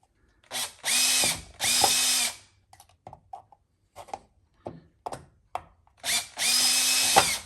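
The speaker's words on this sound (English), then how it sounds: "So I'm just going to hold it up like that and then drill through that hole." A power drill whirs in loud bursts while drilling through a hole in a part held by hand, a few long runs at the start and end with short taps and clicks between them.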